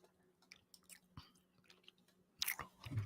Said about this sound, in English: I was chewing on a piece of candy.